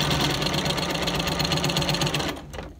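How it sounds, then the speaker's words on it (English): Sewing machine stitching the sides of a sawtooth star onto the center piece of a fabric pincushion, a steady, loud, close motor whir running continuously before stopping abruptly near the end. "And now I'm sewing the sides of the star onto the main center piece."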